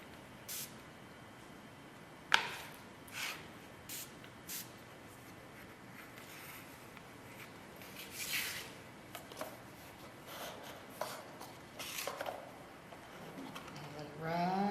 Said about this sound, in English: This is a new water bottle, and I found last night it has a much heavier spray than I'm used to.